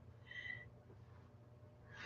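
A phone notification tone made to imitate a bottle top popping open plays two short tonal chirps, one early and one at the very end, fairly faint over a quiet room.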